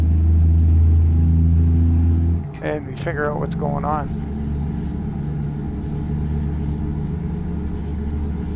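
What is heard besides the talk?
truck engine rumbling in American Truck Simulator video game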